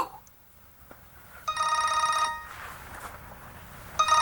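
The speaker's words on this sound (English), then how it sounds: "Your other cell phone's ringing." A cell phone rings in two electronic trilling bursts separated by a pause, fairly clear against a quiet room with faint background murmur.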